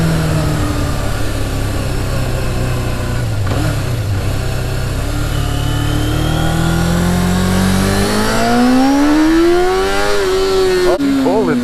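A Yamaha lightweight motorcycle accelerates hard with a loud, continuous engine drone whose pitch climbs and sweeps through the gears, while voices talk over it.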